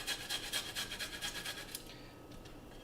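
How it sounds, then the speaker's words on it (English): Fresh ginger is rasped on a grater in quick rhythmic strokes, about a dozen close scratchy rubs, then it stops and leaves quiet room tone. "Grating ginger is actually a really good way to do it"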